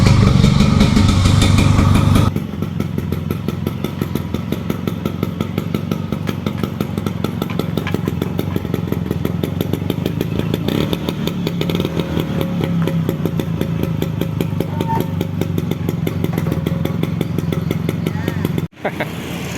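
Vespa scooter engine running steadily on a road on the way to a workshop in Makassar, a continuous buzzing two-stroke drone with a brief dropout near the end and no talk over it.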